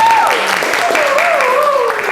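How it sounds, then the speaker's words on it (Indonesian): Schoolchildren clap together at the start of a primary school physical education lesson on floor gymnastics: a dense, steady patter of many hands, loud and close, lasting about two seconds while a voice talks over it. "Oke, tepuk tangan untuk kita semuanya."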